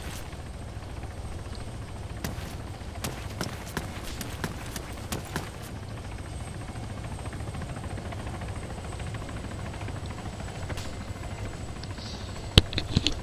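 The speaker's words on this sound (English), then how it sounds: "So the helicopter is firing on it." Helicopter in the military video game Arma III, heard as a steady low rotor and engine drone that runs throughout, with scattered sharp clicks and a few louder snaps near the end and no speech.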